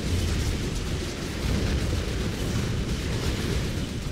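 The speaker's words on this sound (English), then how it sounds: "That APOC gets destroyed." An Apocalypse tank is destroyed in the strategy game Red Alert 3, and a loud sustained rumbling blast with crackling debris rolls on without pause for several seconds.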